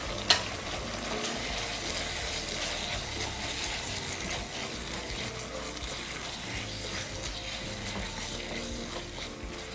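Shredded carrot and choy sum stems cook in a pan with a steady, low bubbling simmer and occasional light scraping, a brief clink near the start, with no talking.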